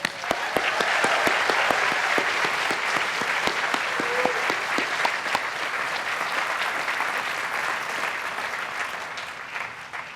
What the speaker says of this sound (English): Let's give them cheers and applause.